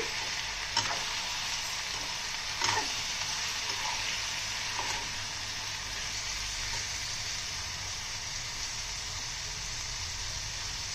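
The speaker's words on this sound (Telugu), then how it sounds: "ఒక 10 మినిట్స్ దాకా ఫ్రై చేసుకోవాలండి" Pieces of bottle gourd, already boiled, frying in a pan for majjiga pulusu make a steady even sizzle over eleven seconds, with a few soft ladle clicks early on and no talking.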